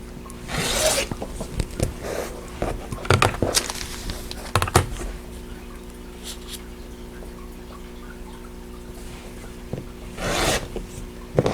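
Fabric for a vintage Queen Charlotte's Crown quilt block being trimmed along solid lines, with close scraping, rasping cuts and rustling bursts spread irregularly over quiet gaps.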